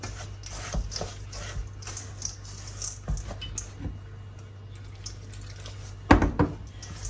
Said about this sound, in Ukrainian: Після чого заливаємо водичку і гарно перемішуємо лопаткою, рукою, чим вам зручно.